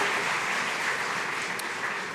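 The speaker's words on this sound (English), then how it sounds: "Let's give a round of applause for Jim and Evelyn Piazza and Piazza and Gruver." Audience applause for Jim and Evelyn Piazza fills the room, a steady wash of many hands clapping at moderate loudness, heard alone without talk and tapering slightly near the end.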